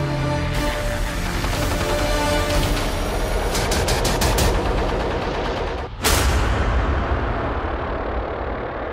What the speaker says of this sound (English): He went outside and started operating an anti-aircraft machine gun that he had never been trained on.